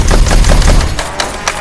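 A battery-powered Nerf Rival blaster with a rev trigger spins up its flywheels and fires a quick burst of foam rounds, a loud, close, rapid mechanical rattle with no speech.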